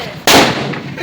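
A firecracker bursts close by with a single sharp, loud bang that decays quickly, after a moment of quieter background.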